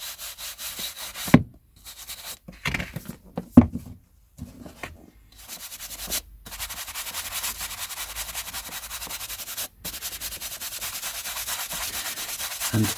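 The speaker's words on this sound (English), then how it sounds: "Right, now for the mucky part is the polishing." Vintage collectible items are polished by hand, giving close, steady rubbing and scrubbing strokes that come in short bursts with brief silent gaps, then turn into a continuous rub.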